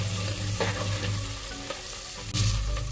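Onions and whole spices fry with a steady, close sizzle in a pan while a spoon scrapes and stirs in a few distinct strokes.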